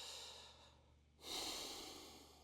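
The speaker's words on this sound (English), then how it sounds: "Again, breathing through the nose." A slow, quiet breath drawn through the nose during a breathing exercise for upper back tension, a soft airy inhale swelling after a brief pause, close and alone.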